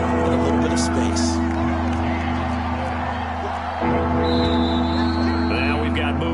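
Home stadium crowd noise roars in a video game football match, a constant loud wash of cheering and shouting with whoops and a few sharp calls, with a commentator talking over it.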